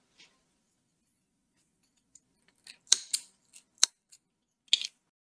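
Scissors snipping yarn threads for a crochet top, a handful of sharp, close, isolated snips and clicks in quiet surroundings.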